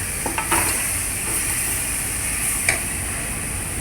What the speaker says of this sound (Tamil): கத்திரிக்காய் போட்டு கிளறி விட்டுங்க